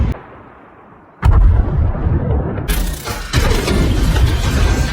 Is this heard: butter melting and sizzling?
no